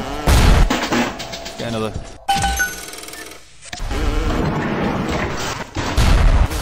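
Gunfire in the video game BioShock: several sharp, loud booming shots in quick bursts, with metallic ringing and game effects between them, and a player's voice briefly over the action.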